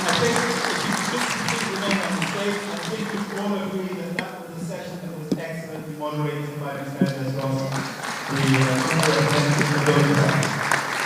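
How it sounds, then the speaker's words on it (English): An audience at a German-Nigerian business conference applauds its panelists with steady, sustained clapping that fills the room, with voices talking over it. "A big applause for the panelists."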